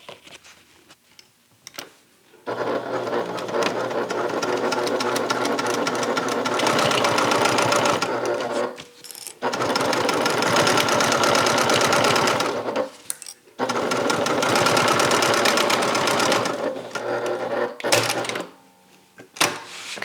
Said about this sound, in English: And I'm going to stitch this in place.